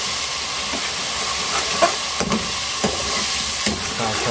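Potato pulao with crushed red chilli sizzling in a frying pot while a spoon stirs it, a broad steady hiss with soft scrapes and knocks, close and continuous without talk.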